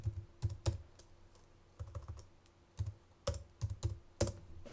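Keys clack on a computer keyboard in short bursts of quick taps with brief pauses between, crisp and near but fairly quiet, with no voices over the typing.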